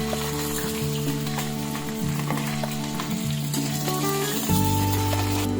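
Onion, bay leaves, dried red chillies and slit green chillies sizzle in hot oil in a pan, a steady close crackle with soft stirring, growing louder toward the end; no one talks over it.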